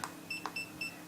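A SINGCALL wireless waiter pager receiver for a hotel service call system gives three short, bright electronic beeps at an even pace, close and fairly quiet over a faint background hiss.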